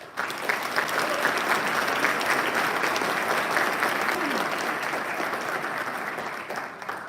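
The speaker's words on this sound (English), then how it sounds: "Can I get a round of applause, please, for Colonel Lamb." Audience applause at a 52nd Mission Support Group change of command ceremony, a steady, even clapping across the whole span that thins slightly toward the end.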